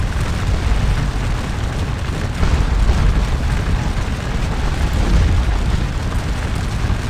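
Artillery fire on a Waterloo battlefield in Scourge of War: a dense, continuous rumble of overlapping booms, loud and heavy, rolling on without a clear break.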